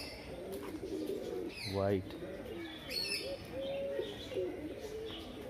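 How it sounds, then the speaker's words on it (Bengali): Pricey pigeons, including a brown one, cooing and chirping in a loft at Ramharipur RKM in Bankura, faint and intermittent under quiet talk, with one clear rising call and a brief flutter. "দামি দামি পায়রা"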